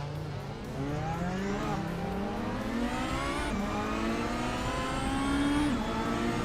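A 1985 Lancia Delta S4 race car in a racing video game, its engine revving hard and climbing through gears with sharp shifts, loud and continuous with no talk.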